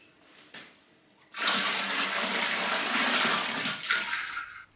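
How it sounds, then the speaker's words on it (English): Water from a tap gushes steadily into a large canning pot, a loud continuous rushing that starts abruptly after a short knock and runs for several seconds before easing slightly. "So I'm going to fill this up with a bit more water."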